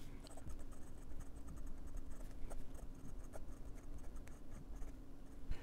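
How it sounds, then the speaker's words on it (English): A Eureka PEEK fountain pen with a Bock nib writes on paper, giving a steady soft scratching with light strokes and small ticks throughout, close up and quiet. "this is the smoothest Bock nib I've ever used"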